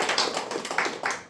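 A church congregation clapping for the choir during a Sunday worship service, a dense, steady patter of many hands filling the room for just over a second.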